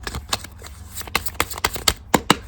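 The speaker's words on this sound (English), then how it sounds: "The card is so hard to shuffle." Tarot cards being shuffled during a pick-a-card reading, a run of sharp riffling bursts repeating about every quarter second, close and fairly loud with no talk over them.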